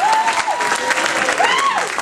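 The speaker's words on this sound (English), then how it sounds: "A round of applause, come on!" A comedy club audience claps loudly for a couple of seconds while a voice talks over the crowd.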